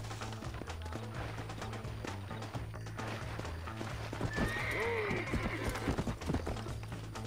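Hooves clip-clop steadily at a distance, then a horse whinnies loudly, with faint background music throughout, in the video game Red Dead Redemption.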